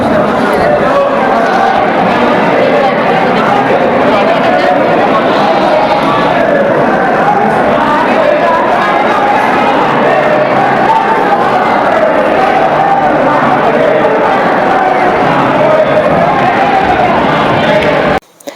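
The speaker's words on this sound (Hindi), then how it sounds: "आप लोग देख ही रहे होंगे कि यहाँ पर कितनी भीड़ है" Pilgrims crowding Nageshwar Jyotirlinga temple in Dwarka, a dense steady hubbub of many voices close around, continuous chatter with no single speaker standing out.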